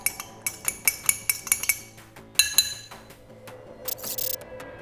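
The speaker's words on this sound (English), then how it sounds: "Mix the cocktail with the bar spoon for around 30 seconds." A metal bar spoon clinks against glass while stirring an Old Fashioned cocktail, a quick series of bright, close chimes followed by scraping and a few louder taps.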